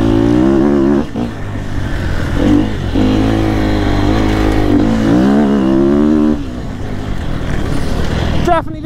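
A Sherco two-stroke dirt bike on a motocross track, engine revving and rising and falling in pitch through turns, loud and close throughout with a rider's voice mixed in.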